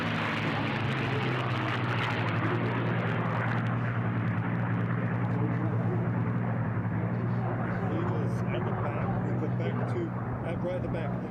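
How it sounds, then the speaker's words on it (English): Continuous, loud drone of racing piston-engine warbirds, a P-51 C model and a P-40, at the National Championship Air Races, steady for the full stretch as a race announcer talks over it. "Continue to follow our number 2 aircraft on the right side, the Boise B and the P-51 C model with John Maloney in race 19."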